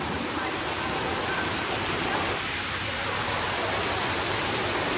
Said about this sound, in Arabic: بس شوفوا شلون شلال تعبر، هذا هو الشلال.